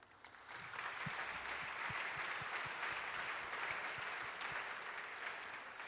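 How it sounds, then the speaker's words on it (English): Audience applause at a holiday gala, a steady wash of many hands clapping throughout, fairly distant and even, with no one speaking over it. "Another round of applause"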